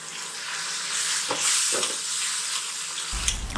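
Ground tomato paste poured into sizzling onion gravy in a pan, a bright steady frying hiss with a few stirring scrapes and a soft splash of added liquid near the end, close and without talk.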